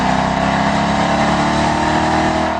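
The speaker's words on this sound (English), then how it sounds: "Its heavy V8 also makes the most sweet, caramely V8 noise of any car here" A loud, deep Ford Mustang GT V8 engine roars continuously at high revs, close up and steady throughout.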